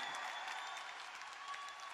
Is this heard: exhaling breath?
no